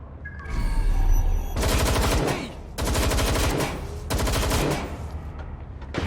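Automatic gunfire in the video game Watch Dogs: Legion rattles in three loud sustained bursts separated by short gaps, dense rapid shots filling the clip with no talking.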